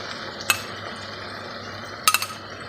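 A spoon clinks sharply against a pan twice while yogurt goes into frying masala for bhindi gosht, once early and then in a quick cluster of three taps, over a low steady kitchen hum.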